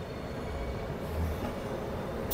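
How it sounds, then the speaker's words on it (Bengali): Departing Howrah station, the 12337 Shantiniketan Express gives a steady low rumble and rattle heard from on board, quiet and continuous, with a slight metallic squeal toward the end. "এই হাওড়া স্টেশন ছেড়ে বেরিয়ে যাচ্ছে"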